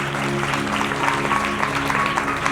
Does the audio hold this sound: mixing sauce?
no